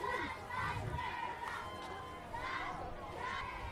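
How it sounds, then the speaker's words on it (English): Parade crowd at an irrigation festival grand parade chanting and shouting together in a cheer, a loud mass of voices rising and falling in waves with distant calls mixed in. "Olympic Thunder Cheer."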